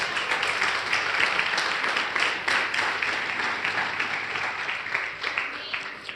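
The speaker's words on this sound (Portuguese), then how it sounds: "Aplauda Jesus." Church congregation applauding during a sermon, a continuous, even wash of clapping from many people that carries through the whole stretch and eases slightly at the end.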